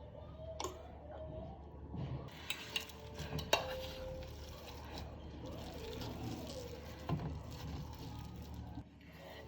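Boiled potatoes and pigeon peas being mashed in a home kitchen for tikki: a faint, steady run of soft squashing and stirring, with occasional light clinks of a utensil against the bowl.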